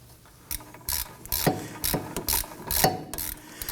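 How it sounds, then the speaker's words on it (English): Socket ratchet with an extension starting a rear wheel hub bolt on a 2018-2024 Toyota Camry during a hub bearing swap, giving a series of close, crisp ratcheting clicks in short bursts. "use our socket with the extension to go ahead and start that bolt on the back."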